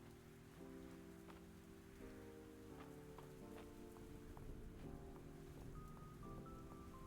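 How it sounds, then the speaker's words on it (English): Steady rain falls in the farming video game Fields of Mistria, a soft constant patter under a gentle melodic music track that plays throughout. "A rainy day like this would be perfect for snuggling up with a good book."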